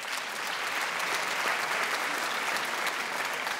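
Sustained applause from a comedy gala audience fills the stretch, steady and dense with no pauses, loud and close throughout with no voices standing out.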